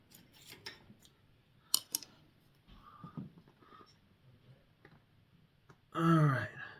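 Scissors cut through an old wood stove door gasket with a few sharp, close snips and clicks, quiet handling sounds and breaths between, and a brief louder burst near the end.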